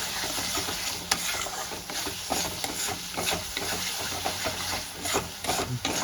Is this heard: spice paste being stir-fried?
yes